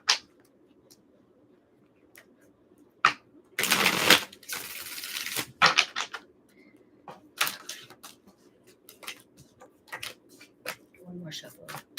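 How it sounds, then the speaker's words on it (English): Bursts of crisp tarot-card shuffling riffle, one long flurry and several shorter ones, close by with quiet pauses between. "One more shuffle."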